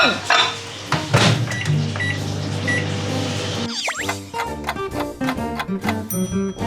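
A microwave oven heating gnocchi in pesto cream: door and cupboard-like clunks, then the steady hum of the running oven with a few beeps, while someone talks over it.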